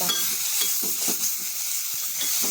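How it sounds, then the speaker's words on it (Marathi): A tempering of mustard seeds fries for chutney, giving a dense, loud, continuous sizzle with rapid small crackles and pops throughout, heard close up. "मस्त अशी तडका आपल्या चटणीला झालेला आहे"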